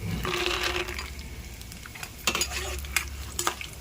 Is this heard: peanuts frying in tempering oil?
yes